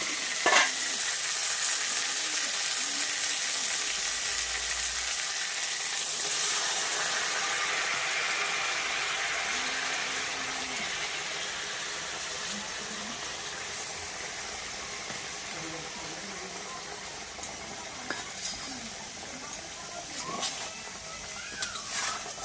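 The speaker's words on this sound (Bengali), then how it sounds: "এবার আমি গরম জলটা দিয়ে দেবো।" Hot water poured into mutton frying in oil in a pan, giving a loud, dense sizzle and hiss that gradually eases into quieter bubbling, with a few sharp clinks of utensils toward the end.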